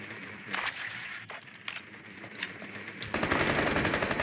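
Gunfire in a tactical shooter video game: a few sharp isolated shots early on, then a dense rapid burst of automatic fire near the end, close and loud.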